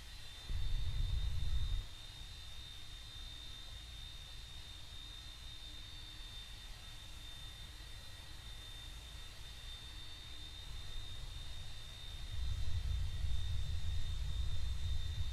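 Airliner jet engines in the Roblox flight game Aeronautica, taxiing to the gate: a steady broadband roar with a faint high whine, swelling louder at the start and again near the end, with no talk.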